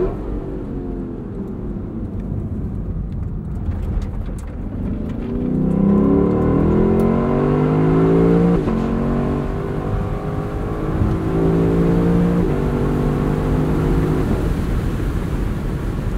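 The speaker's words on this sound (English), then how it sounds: "What you really want to hear is this exhaust." A 2021 Lexus LC 500 Convertible's exhaust roars through repeated revs, loud and close, with rising and falling engine pitch and sharp throttle blips building in intensity, no talking over it.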